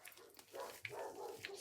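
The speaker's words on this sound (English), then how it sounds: "Sorry about the dogs barking." Several dogs bark and yip in short bursts from a neighbouring yard, fairly close but not loud, against quiet background noise.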